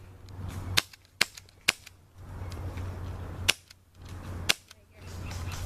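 Airsoft guns fire during an airsoft game, several sharp single cracks spaced irregularly, some close and loud, over low background rumble.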